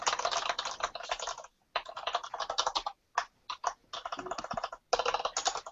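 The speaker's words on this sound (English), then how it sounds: "sounds like someone is typing" Someone types quickly on a computer keyboard during an online developer meeting, in dense bursts of clicks broken by brief pauses. The keystrokes are close but moderately quiet, and no one speaks over them.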